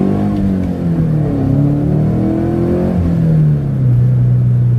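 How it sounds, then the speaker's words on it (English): A modified Scion FR-S's aftermarket exhaust rumbles low and steadily as the engine accelerates, pitch climbing through gear changes, moderately loud with no voices. "this one also does have an NVIDIA N1 exhaust. You can kind of hear it."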